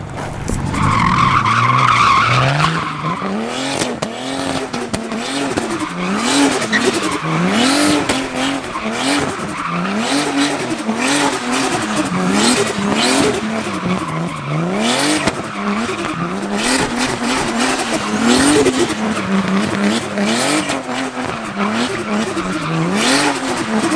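Cars drift at a Thursday night session with continuous tire squeal rising and falling in long wavering sweeps over loud revving engines, sustained and close for the whole stretch.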